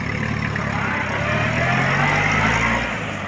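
A Mitsubishi MT285 compact tractor with a 28-horsepower four-cylinder engine idles steadily nearby, a continuous low, even rumble with no voices over it.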